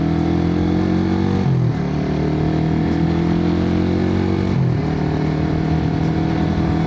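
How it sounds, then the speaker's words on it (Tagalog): A motorcycle cruising at steady speed while the rider shifts gears without the clutch, its loud, close engine drone briefly dropping in pitch at each of two shifts before settling again. "pwede palang kumambyo kahit walang clutch"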